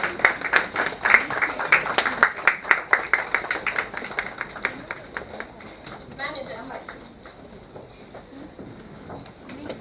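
Audience applause for a guest at a Women's Day celebration, sparse claps that fade into murmuring and talk in the room.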